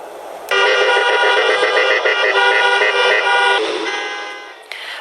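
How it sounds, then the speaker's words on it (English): Car horns honk steadily and loudly from protesters' vehicles blocking traffic outside Michigan's Capitol in Lansing, a dense sustained blare of several overlapping tones that fades slightly toward the end. "Blocking traffic, honking their horns to protest some of the strictest rules in the country"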